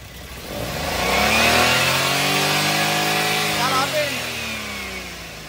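A 2017 Maruti Suzuki WagonR LXi petrol engine, on a second-hand car, is revved. It climbs smoothly to a loud, close, held high rev, then winds back down toward idle.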